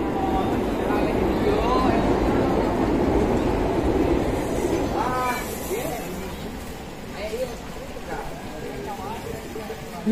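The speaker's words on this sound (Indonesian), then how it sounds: "Wah, kereta lewat" A train rumbles past a fishing pond in a loud, sustained roar that eases off toward the end, with people talking over it.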